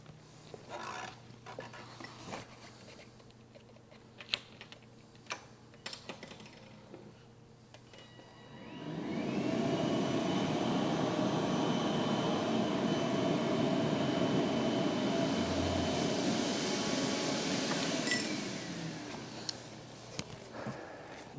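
A rider floor scrubber machine starts up and rolls forward, its motor rising into a loud steady whirring hum that holds for about ten seconds before dropping away, close by in a quiet indoor space.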